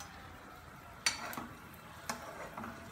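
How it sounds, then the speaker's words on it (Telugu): Aloo samosas deep fry in hot oil with a low, quiet bubbling hiss, punctuated by two distinct metallic clinks of a utensil against the pan about a second apart. "ఆయిల్ కాగిన తర్వాత ఇలా ఇంకొకటి ఇంకొక సమోసా దీంట్లో వేసేసుకోండి"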